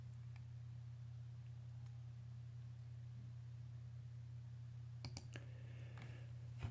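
A single computer mouse click, then a quick cluster of sharp clicks near the end, close and clear over a steady low electrical hum while creating a Google Sites page in Google Drive.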